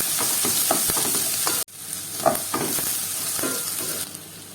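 Finely chopped onion sautés in a pan with a steady sizzle. Stirring clatters and scrapes over it, and the sound briefly drops out partway through before the frying resumes.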